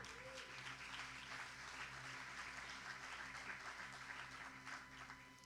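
Church congregation clapping during a Portuguese-language sermon, a sustained wash of applause from many people, fairly quiet and distant, with low steady hum and tonal background sound underneath.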